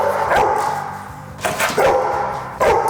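A dog barks in three sharp, loud bursts at close range, spaced about a second apart, with no talking.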